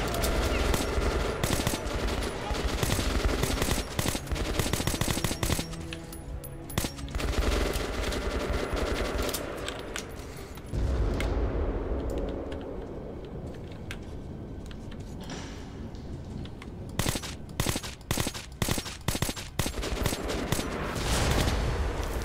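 Bursts of automatic gunfire in the Metro: Last Light finale, sustained rattling volleys that thin out midway, then return as sharp, separated shots toward the end, loud and close.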